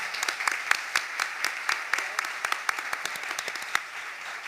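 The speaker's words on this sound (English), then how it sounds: "let's give them all a round of applause" An audience claps together in a lively round of applause, with many sharp individual claps standing out across the whole stretch.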